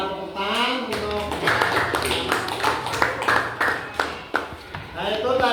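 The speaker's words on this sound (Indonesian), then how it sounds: "Nah, tepuk tangan untuk." A classroom applauds during a sixth-grade lesson: quick patter of clapping hands, fairly close and moderately loud, under a teacher's voice that carries on talking.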